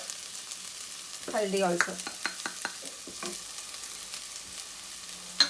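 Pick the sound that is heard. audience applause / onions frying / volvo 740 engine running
onions frying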